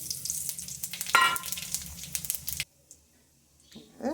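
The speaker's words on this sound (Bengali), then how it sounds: "এই যে তেজপাতা ফোড়ন দিয়ে দিলাম, এই যে গোটা জিরে" Bay leaf and whole cumin dropped into hot oil for tempering, a loud crackling sizzle that builds then cuts off abruptly, followed by near silence and a faint stir at the end.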